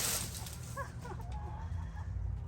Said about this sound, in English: And let's see the chickens. They're really gonna like this.